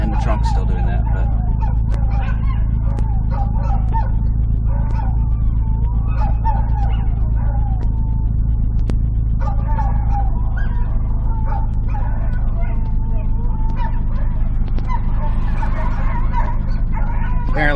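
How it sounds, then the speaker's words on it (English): Dogs howl in drawn-out wavering cries over the steady idle of a Mini engine during its rebuild, several overlapping howls rising and falling throughout. "That's our dogs howling right now"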